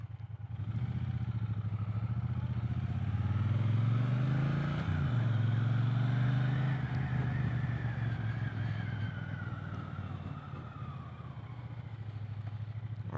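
A used Triumph Bonneville T120 motorcycle with 4,396 miles on it rides along, its engine note rising as it accelerates through the gears with a steady, close exhaust rumble and wind rush.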